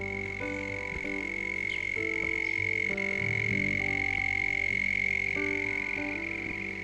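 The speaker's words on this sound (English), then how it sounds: "The frogs have all just started singing." A chorus of frogs croaks steadily in Tasmanian bush, many overlapping calls forming a continuous, fairly loud rhythmic din with no talking.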